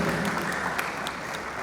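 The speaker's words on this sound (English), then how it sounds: "I think it deserves a round of applause." A crowd at a town hall meeting claps continuously, a dense, even patter of many hands that carries through the whole moment.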